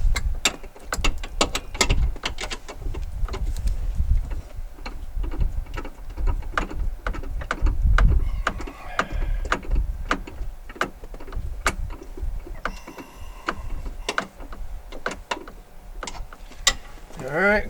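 A socket wrench ratchets in quick bursts of clicking while a 2006 Jeep Wrangler TJ dash is fitted, close by, with knocks and handling noises between the runs of clicks.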